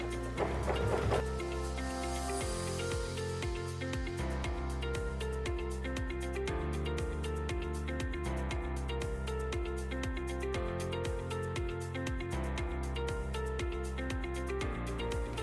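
A sewing machine stitching a quilted mug rug runs steadily up close, with a rapid, even mechanical chatter that speeds up and holds without pause.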